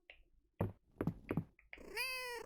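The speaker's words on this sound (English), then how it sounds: "Meow." Cartoonish cat meows from the farming life-sim game Fields of Mistria, a short series of close, bright meows followed by a longer drawn-out mew.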